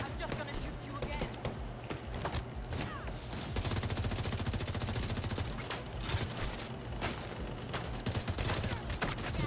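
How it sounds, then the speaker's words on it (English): Gunfire in The Division 2, dense bursts of automatic weapon fire crackling almost continuously and loud throughout, with a voice talking over parts of it. "I'm just gonna shoot you again."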